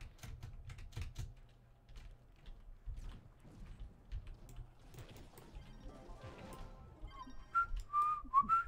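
A person whistles softly near the end, a few short high notes, after a stretch of quiet clicking and tapping noises with no speech.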